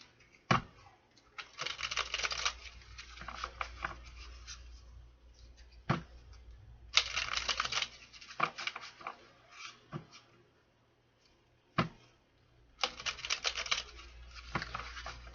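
A deck of cards is riffled and shuffled in several quick crackling bursts with short pauses between them, close and fairly quiet.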